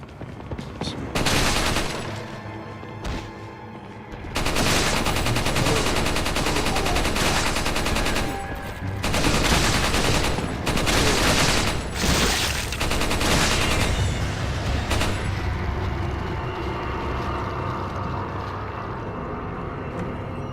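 Gunfire rings out in Resident Evil 4 on the GameCube, sharp bursts and sustained volleys with loud peaks separated by brief lulls, mixed with other game noise and occasional talk.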